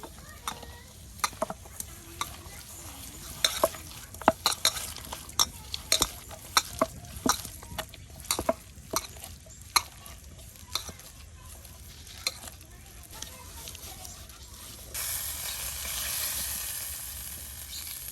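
Drumstick leaf fritters frying in a pan, with a steady oily sizzle under frequent sharp scrapes and taps of a utensil, and the hiss swelling louder near the end; no speech.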